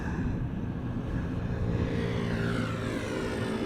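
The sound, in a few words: British Airways aircraft at Schiphol Airport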